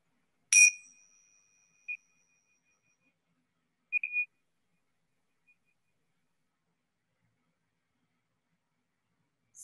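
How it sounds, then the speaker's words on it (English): A small handheld meditation bell is struck once, its clear tone ringing and slowly fading, followed by a few faint light chimes in an otherwise silent room. "I'm going to be ringing this little bell that I have here."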